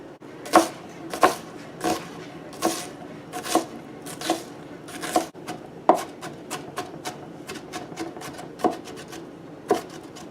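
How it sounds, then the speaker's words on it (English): A knife repeatedly strikes a cutting board in uneven, sharp chops while cutting onions, close up and fairly loud, with brief pauses between bursts and no voices. "first I'm going to start out by chopping up my onions"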